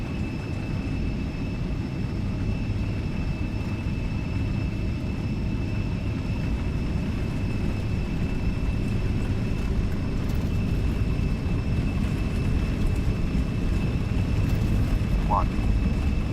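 An Embraer E170 in X-Plane 12 rolls down the runway with its jet engines at takeoff thrust, giving a steady loud broadband roar and a high whine that hold unchanged throughout, with faint talk in the cockpit.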